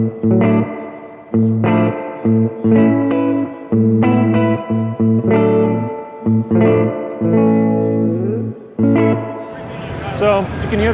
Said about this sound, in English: So you can hear there's a nice kind of springy sound to that, but it's very short